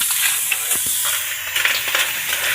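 Shellfish such as mud shells and oysters sautéing in a hot pan, a steady close sizzle with scraping stirs and bursts of steam hiss, no talking.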